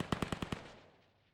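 Gunfire in the VR shooter VAIL VR during a competitive esports match: a rapid burst of about five close, loud shots in quick succession, followed by a reverberant tail that slowly fades.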